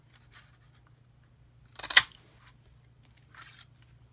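A paper punch snaps through scrap paper to cut out a flower shape, making a single sharp, close click in an otherwise quiet room, followed by a faint rustle of paper.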